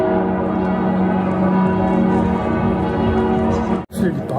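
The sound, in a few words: church bells chiming in Salzburg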